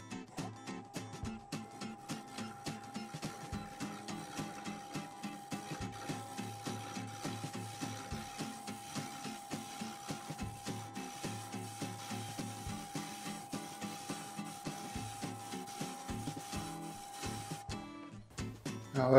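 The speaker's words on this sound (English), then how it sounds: "I'm going to be turning this at 1000 RPM." A maple vessel spins on a wood lathe at 1000 RPM, giving a steady motor hum with a continuous scraping hiss and a regular rhythmic tick from the turning piece, all at an even level with no talking.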